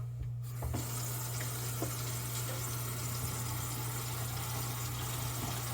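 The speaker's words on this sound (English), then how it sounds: "Turn the hot water at the sink on." Hot water runs steadily from a sink faucet, a continuous hiss and splash beginning sharply at the start, with a low steady hum underneath.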